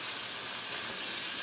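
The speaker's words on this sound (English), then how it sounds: "making a little roux here, and this will" Flour and fat roux sizzling in a Dutch oven as it is stirred, a steady, close frying hiss that runs continuously without pause.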